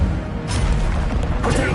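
An Incendio fire spell cast in a Hogwarts video game, heard as a short loud burst with a whooshing flare and crackling rush lasting under two seconds.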